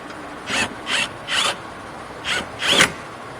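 A ratchet turning down the rear hub assembly bolts on a Chevy Equinox with ABS, with five short rasping clicking bursts in an uneven rhythm, loud and close with no talk.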